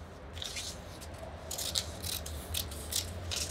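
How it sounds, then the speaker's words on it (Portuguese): Scissors cutting a printed paper template make a quiet series of crisp snips and rustles close by, coming in short irregular bursts against a low background hum. "Eu tô cortando perto da imagem, por quê?"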